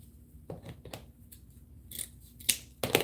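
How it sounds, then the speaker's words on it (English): Sharp scissors snip through stiff deco mesh in a few quick, crisp angled cuts, close up, with soft handling rustle between snips. "cutting it at an angle, using nice sharp scissors"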